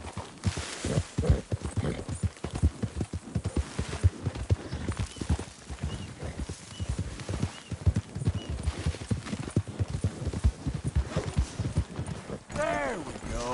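Horse hooves clip-clop steadily on the ground during a ride in the American South, a brisk close rhythm with a brief whinny near the end and a rider speaking softly to the horse.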